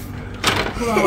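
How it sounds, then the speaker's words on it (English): A door opening or thudding shut indoors during a family Christmas elf activity, a single broadband burst that rises mid-clip and is followed by a lingering rumble, with voices present around it. "Wait, door!"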